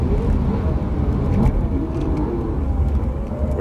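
BMW M4 GTS on a fast lap of the Nürburgring Nordschleife, heard as a steady loud engine and road roar at high speed with wind noise, continuous throughout.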